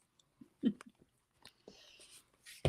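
Someone bites into and chews a flaky pastry, with a few close crisp crunches and soft chewing sounds separated by pauses.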